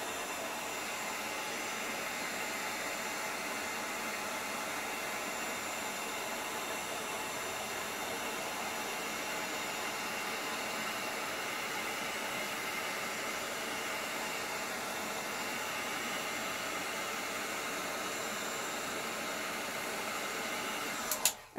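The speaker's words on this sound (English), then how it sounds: "Now, if you wanted to, you can hit it with your heat gun to start the cracks." Heat gun blowing steadily on acrylic crackle paint, a continuous airy whoosh at close range with no break until it cuts off at the very end.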